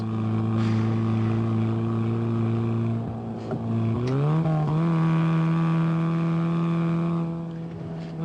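A steady engine drone runs throughout, loud and close, with a brief shift in pitch midway as it revs before settling again.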